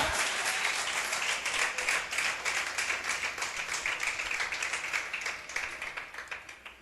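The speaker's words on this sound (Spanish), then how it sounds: "Aplauda al Señor en esta mañana." A church congregation at a Spanish-language morning service claps together, a steady crowd applause that gradually fades toward the end.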